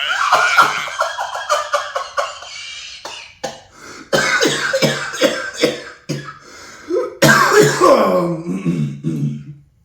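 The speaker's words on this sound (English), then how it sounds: "No, I was coughing." A series of sharp, harsh coughs in quick bursts, close and loud, with short pauses and throat-clearing between fits.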